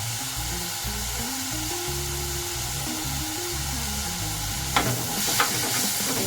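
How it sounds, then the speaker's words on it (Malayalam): Green chillies, curry leaves and crushed ginger and garlic sauté in a pan for a Kerala prawn curry, a soft steady sizzle under background music, with a couple of sharp utensil scrapes near the end. "അതൊന്ന് ഇതിൽ കിടന്ന് വഴന്ന് വരുമ്പോൾ നമുക്ക് ചതച്ച് വെച്ചതാണ്, ഇതും കൂടി ഇടാം."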